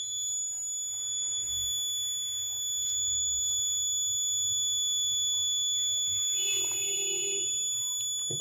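An ESP32-based vehicle rash-driving alert system's alarm sounds as a steady, loud electronic tone, similar to a smoke alarm, holding unbroken for several seconds over low background noise with no speech.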